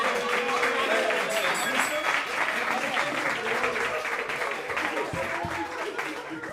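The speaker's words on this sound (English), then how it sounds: "Give them a round of applause." Loud, sustained audience applause with cheering fills a roast battle comedy show in New York City, a dense wash of clapping that holds steady throughout and eases slightly toward the end.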